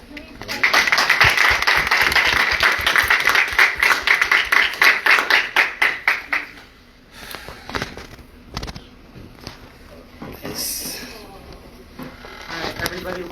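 Delegates at a Washington DC town hall applaud the International Women of Courage awardees: brisk, loud clapping for about six seconds that then thins out to scattered claps and voices.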